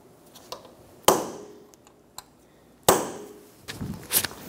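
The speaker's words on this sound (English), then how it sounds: "Remove the punch, stake the axle nut." Hammer blows on a punch staking the axle nut of a 2003-2007 Honda Accord front suspension, two sharp metallic strikes with ringing decay plus a few lighter taps, close and clear.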